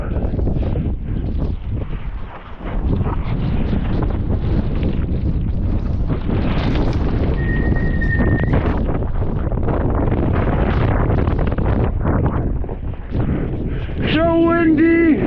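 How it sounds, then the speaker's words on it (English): Strong wind buffets the microphone while wingfoiling on water in a snowstorm with heavy rain, a loud continuous roar with gusts throughout, spray and splashing mixed in and a shout near the end. "It is so windy and it's raining really hard."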